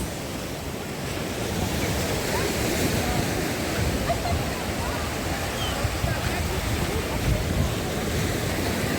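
Sea waves wash steadily onto a crowded Odesa beach in mid-September, a continuous close surf roar with wind buffeting and a murmur of beachgoers' voices beneath.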